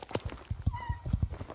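In the Star Stable video game, a horse moves on a hill, its hooves clopping in a quick irregular rhythm with a brief sliding whine in the middle, all fairly faint.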